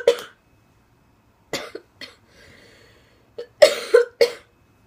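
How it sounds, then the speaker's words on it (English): Someone coughs in harsh bursts after smoking from a bong, a loud cough up close, then a short pause, then a rapid cluster of several more coughs in a fit. "I'm gonna have a coughing fit if I keep smoking that."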